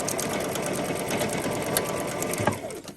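A sewing machine stitching a paper corset, a fast steady mechanical whir of the needle close up, running evenly before slowing and stopping near the end.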